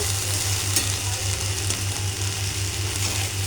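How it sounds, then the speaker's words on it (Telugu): Okra pieces fry in a pan, giving a steady, close sizzle that holds at an even level throughout, with a faint low hum underneath and no voices. "చాలా నీట్గా ఫ్రై అవుతుంది బెండకాయ విడిపోదు కూడా"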